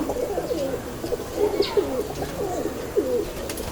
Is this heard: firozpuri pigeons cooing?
yes